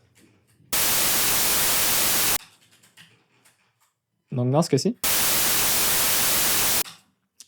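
A mono white noise sample plays as two loud, flat hissing bursts of about 1.5 and 2 seconds, separated by a quiet gap where someone briefly speaks in French.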